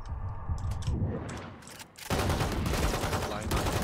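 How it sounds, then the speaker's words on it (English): Gunfire from the video game Valorant crackles in rapid bursts, sparse at first and then dense, continuous automatic fire, with players' voices talking over the game sound. "the people are shooting at you while he kills them"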